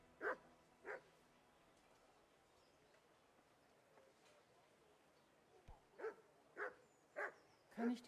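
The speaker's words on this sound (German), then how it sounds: "Der Hund muss sich abreagieren?" Dog barking in the medieval role-playing game Kingdom Come: Deliverance: two barks, a pause, then a steady series of five or six sharp barks at moderate distance.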